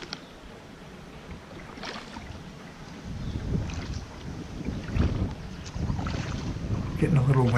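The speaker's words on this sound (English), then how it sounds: "Getting a little windy." Gusty wind buffets the microphone outdoors by a pond as a storm approaches, a low rumbling roar that swells louder after a few seconds, with faint speech-like murmurs underneath.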